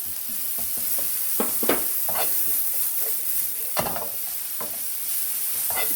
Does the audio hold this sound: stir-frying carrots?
yes